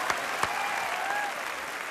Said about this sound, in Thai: ก็ต้องปรบมือให้เหมือนกันนั้น อ้าวปรบมือสิครับ